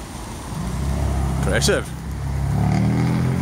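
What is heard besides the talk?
BMW 6 series exhaust at a roundabout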